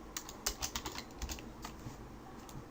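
Fingers tapping a computer keyboard in a quick burst of keystrokes that slows to scattered taps, faint and close, with no voices.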